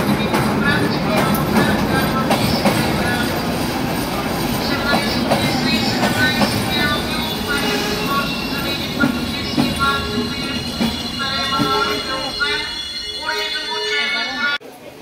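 A first-class Bulgarian passenger train rolls along the rails with a continuous rumble, rhythmic clatter and occasional wheel squeals, heard from close by.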